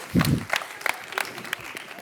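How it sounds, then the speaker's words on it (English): Brief audience applause during a crowdfunding-in-real-estate conference session, scattered claps with a short burst of voice or cheer at the start, thinning to a few isolated claps. "Can we give him a round of applause, please?"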